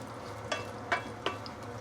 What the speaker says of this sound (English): Then I'm going to add in some fried shallot with some fried shallot oil. And give it a few stir.